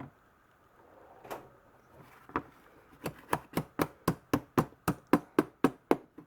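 A soft hammer strikes a metal candlestick holder being bent into shape, a few scattered taps at first and then a steady run of about a dozen evenly spaced, ringing blows, close and fairly loud.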